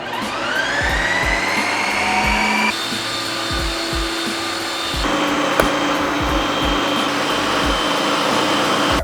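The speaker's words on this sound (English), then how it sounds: "We're always gonna mix these on the light ice cream setting." An ice cream maker churns protein ice cream on its light ice cream setting with a loud, continuous motor whir and grinding. The drone shifts pitch a couple of times and carries faint rhythmic knocks throughout.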